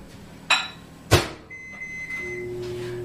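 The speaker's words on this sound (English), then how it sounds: "So you get this in the microwave." A kitchen microwave oven is shut with a thud and a couple of clicks, then starts up with a low steady hum and faint whine that continues, with no talking.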